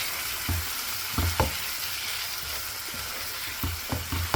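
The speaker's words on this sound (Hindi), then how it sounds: "अब हम चिकन को भूनेंगे 2-3 मिनट के लिए," Chicken pieces frying in a pan over high flame, a continuous loud sizzle with periodic soft knocks and scrapes of stirring, no talking.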